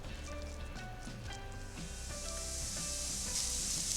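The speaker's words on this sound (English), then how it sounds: "we're gonna saute it just for 1 or 2 minutes more until we can smell the garlic aroma" Garlic paste sautéing with vegetables including carrots in a pan, a steady sizzling hiss that grows louder and brighter toward the end, with faint clatter under it and no talking.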